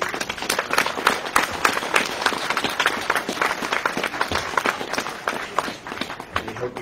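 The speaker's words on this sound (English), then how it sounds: "Ladies and gentlemen, can we get a round of applause" Dense, steady applause from a crowd at a building dedication honoring Dr. Wyatt Tee Walker, continuous loud clapping throughout with no pause.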